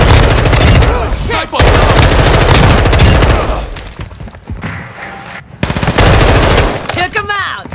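Loud rapid machine gun bursts in Call of Duty: Modern Warfare II, dense automatic fire in long strings with a brief lull and booming impacts, then a renewed burst, with faint game voices mixed in.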